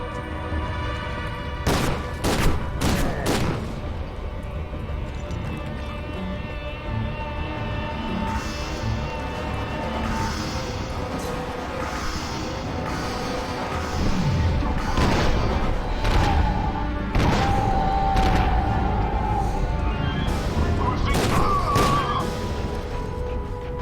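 Gunfire in F.E.A.R. 2, a horror first-person shooter: a burst of several sharp shots near the start, then scattered bangs and impacts over a busy, loud game soundscape with a low rumble and a tonal alarm-like whine later.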